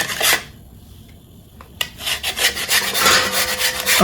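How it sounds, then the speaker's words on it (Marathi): Rough scraping of a block of jaggery rubbed against a kitchen grater, a short burst at the start, a pause, then repeated rhythmic rasping strokes growing busier and louder, close up. "पण आपण किसणे आपल्याकडे किसून घेऊया"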